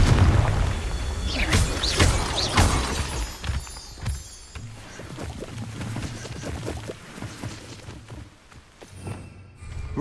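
A Confringo blasting spell detonates in Hogwarts Legacy, a loud booming burst with rumbling low-end impacts early on, followed by scattered thuds and crackling debris that fade into quieter game ambience.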